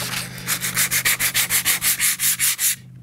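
Back-and-forth hand strokes of sandpaper rubbing paint off an old steel framing square, about a dozen even, rasping passes in a steady rhythm, close and loud, ending abruptly.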